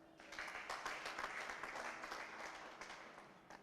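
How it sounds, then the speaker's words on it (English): Applause from an audience at a youth livelihood event with a minister, an even spread of clapping that swells after a moment and holds at a steady but faint level. "Why wouldn't we clap for that?"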